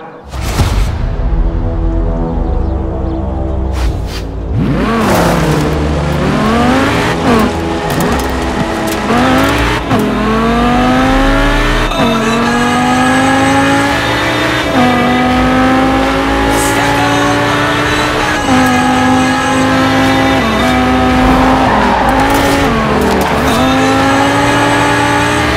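A stunt car driven through wintry snow in Forza Horizon 4 roars loudly and close, engine revving and shifting up through gears with rising and falling pitch sweeps, steady and continuous throughout.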